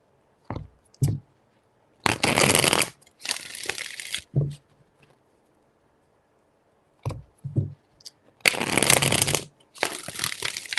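A tarot deck is shuffled in loud, dense bursts of riffling, close to the mic. The bursts are separated by short taps and pauses, with no talk.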